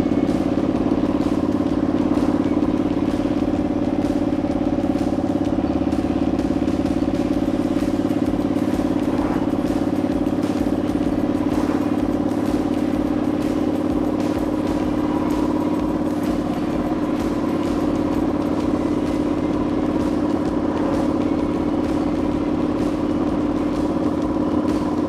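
A Thornton Hundred wide wheel bobber motorcycle is ridden through a park, its engine droning loud and steady throughout with a low rumbling throb and faint rattling.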